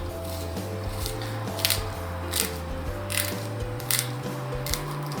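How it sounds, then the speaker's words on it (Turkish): A cheap screw-in plastic lemon squeezer is twisted into a lemon, giving repeated soft ratcheting clicks and squishy creaks in a steady rhythm, close and fairly quiet, with no talking. "Sonra vida sıkılar gibi limonun içerisine doğru bu şekilde ilerletiyoruz."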